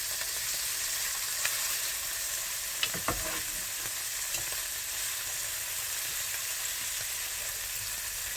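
Halloumi slices cook on a hot griddle with a steady, even hiss of sizzling and a few faint taps as the pieces are turned. The sound is fairly quiet and close, with no one speaking.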